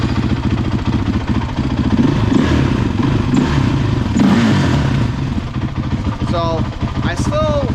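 A 2007 Honda TRX450 ATV engine fires up and runs loud and close with a steady throttle-driven clatter, then revs briefly near the end.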